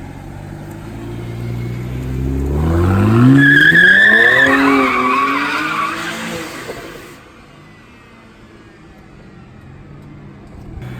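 A car's tires squeal and skid loudly for several seconds as it slides, with engine noise underneath, then the screech cuts off and fades.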